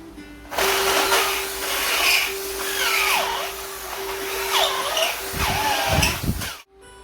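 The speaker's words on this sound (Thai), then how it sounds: "ในตอนเสร็จก็เจาะลงไปนะครับ" A power drill bores down into a stuck bicycle seat post, whining steadily at close range for several seconds with shifting pitch and rough grinding near the end before it stops.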